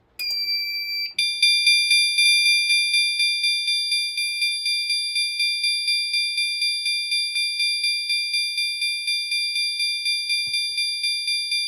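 System Sensor L-series fire alarm chime set to four chimes per second at high volume, a loud, steady run of bright electronic tones repeating rapidly and evenly for over ten seconds after a brief initial tone.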